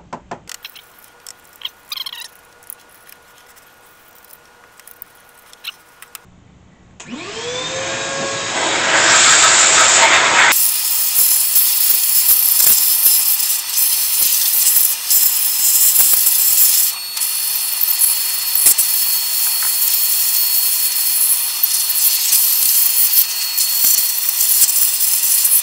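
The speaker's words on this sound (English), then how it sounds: "get the dust that's sticking there moving so I can blow it out." Compressed air blows dust out of a very dirty Atari 1050 disk drive, a loud steady hiss that comes in bursts, first briefly, then sustained for the last fifteen seconds after some quiet clicking and handling.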